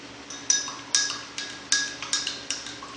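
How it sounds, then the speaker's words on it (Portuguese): A metal spoon strikes a drinking glass while stirring in a crushed Daily Plus tablet, giving a series of about eight clear, bright clinks at a regular pace, close and alone. "eu vou agora com cuidado aqui colocar o tablete triturado, vou mexer"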